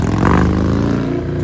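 A big-engined motorcycle revs loudly and close by on Sunset Boulevard, a rough throbbing burst that swells then settles into a steady idle over a second and a half.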